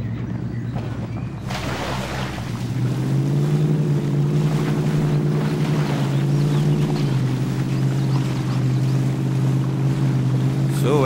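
A Chevrolet Trailblazer in the MudRunner video game drives into water, its steady engine drone rising as the splash and rushing water noise swell and hold loud and close.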